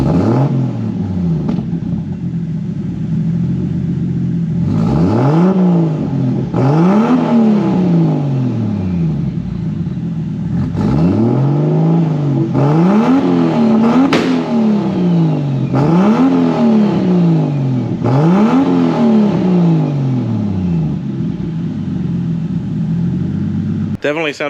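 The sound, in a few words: Toyota Supra straight-pipe exhaust with 5-inch tip muffler revving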